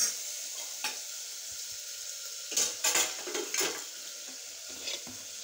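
Mutton head meat fries with coriander and mint in a pan, a gentle continuous sizzle broken by a few louder clattering stirs and metal scrapes around the middle, close by and without talk.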